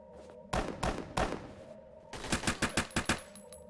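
Gunfire rings out in the BRM5 video game, with a few heavy shots early, then a quick string of rhythmic rapid reports, fairly quiet overall and with no talking.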